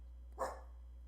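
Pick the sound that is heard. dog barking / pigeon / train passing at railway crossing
dog barking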